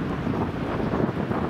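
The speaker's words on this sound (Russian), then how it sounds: "А здесь ветрено, ты чувствуешь?" Wind buffets the microphone in a steady, rough rush, a brief gusty roar with nothing else standing out.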